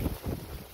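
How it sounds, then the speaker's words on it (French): Strong gusting wind after storms, buffeting the microphone in a loud, rumbling rush with no other sounds. "Avec beaucoup de vent aussi."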